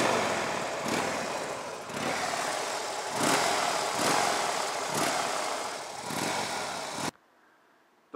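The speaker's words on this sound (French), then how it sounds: "le son de cette Dyna Switchback" A Harley-Davidson Dyna Switchback V-twin motorcycle engine idles close by with a deep, loping rumble, blipping the throttle a few times in rhythmic surges before cutting off abruptly.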